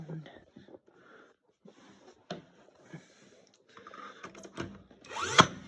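A nail gun fires a single sharp shot into a wall stud while framing a wall, ringing out near the end after a stretch of nearby talking.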